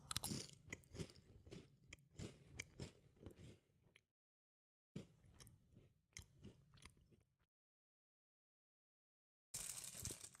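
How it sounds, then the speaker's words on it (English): Close, crunchy chewing and biting in steady repeated bursts, broken by two stretches of complete silence, with no talk. "Chewing is barely audible."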